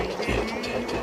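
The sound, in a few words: train rhythm sound effect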